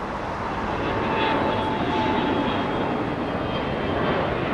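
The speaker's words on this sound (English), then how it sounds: "We're going to have the ExecJet leave in front of us. A Gulfstream G550." A Gulfstream G550 business jet takes off from runway 25 right at Los Angeles International Airport, producing a loud, steady engine roar that holds unbroken throughout with no talking.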